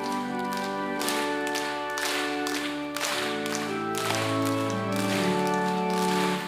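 A church congregation claps in rhythm along with a sung hymn during a worship service, with steady repeated hand claps over sustained organ or keyboard chords and singing voices.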